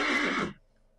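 A horse whinnies in a video game, a single loud, close neigh of about half a second that cuts off abruptly into near silence.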